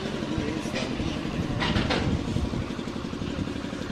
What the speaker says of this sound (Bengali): গাইস আমাদের ট্রেন আসছে, ধীরে ধীরে আসছে।